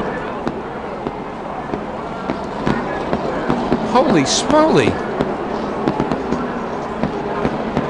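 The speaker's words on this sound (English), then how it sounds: "Fireworks in the air are the least of it." Fireworks bursting over the Darlington NASCAR race, a string of loud crackling pops and whistling rising streaks through the middle, with a voice exclaiming over the noisy crowd.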